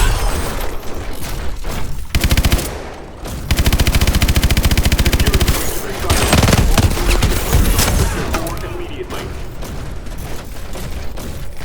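Sustained automatic gunfire from a Call of Duty: Advanced Warfare firefight, loud and close, with rapid rhythmic bursts broken by short pauses and occasional heavy booms, continuing without speech.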